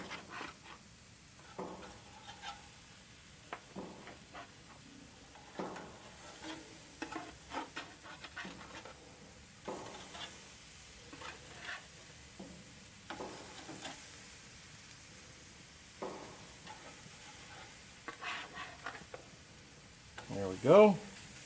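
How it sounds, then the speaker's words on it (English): Burgers searing over open grill flames sizzle softly and steadily at a distance, with scattered clinks and scrapes from handling on top and faint background sounds, ending in one louder knock. "Get a sear on those just a little bit."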